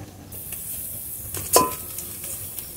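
Dry spice powders (cumin powder, Kashmiri red chili and garam masala) sautéing in a pan for an aloo paratha filling. A low, faint hiss runs beneath a single sharp metallic clink of a utensil near the middle.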